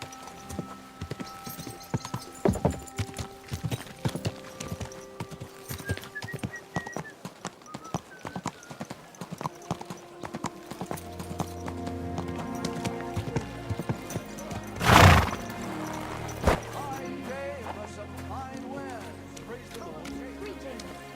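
Horse hooves clip-clop steadily in the medieval game Kingdom Come Deliverance 2, with a brief loud neigh midway, while someone talks over the rhythm of the hoofbeats.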